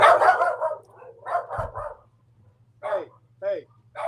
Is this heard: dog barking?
yes